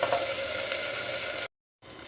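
Malabar spinach and small potatoes fry in a pan without spices, a soft, steady sizzle that runs evenly before dropping into a brief silence and then resuming.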